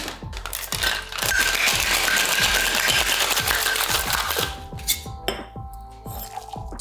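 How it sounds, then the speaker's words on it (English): A sparkling cocktail with maraschino liqueur, simple syrup and bitters being shaken hard with ice in a metal shaker, loud rhythmic rattling for several seconds, then a few clinks as it settles. "Next, we're gonna add ice and shake."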